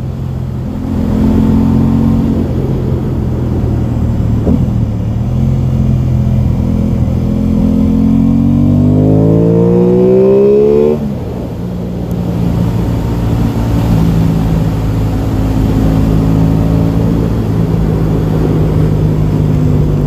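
Aprilia Tuono 660 motorcycle (2021) engine while riding two-up on an open road, a loud steady drone that rises in pitch as it revs up, then drops back after a gear change and settles into a steady cruise.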